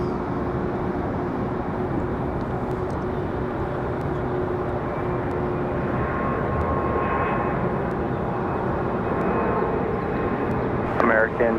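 A jet airliner arriving at Raleigh-Durham International Airport, a steady broad engine roar holding throughout at moderate distance, with radio chatter and talk running underneath.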